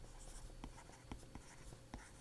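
A pen scratches across paper during a physics lesson, with faint short strokes and taps in an irregular rhythm, very quiet and close, with no talking.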